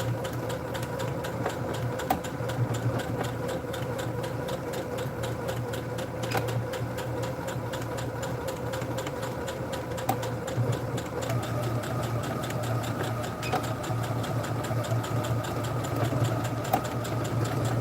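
A sewing machine stitching a bandana bag, a steady rapid mechanical whir with a constant hum and faint ticking, running without pause and shifting pitch slightly partway through.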